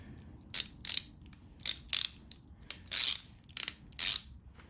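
A ratchet wrench clicks in short repeated bursts while backing out two bolts from the ignition coil on a Harley-Davidson Twin Cam 88 motorcycle, close and crisp against a quiet background.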